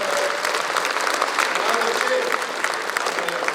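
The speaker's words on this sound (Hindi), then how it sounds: "तालियां वालियां बजा सकते हो जो जो समझ गया वहां।" Steady audience applause fills a Hindi comedy poetry show, a dense crowd clapping continuously and fairly loudly for several seconds with no break.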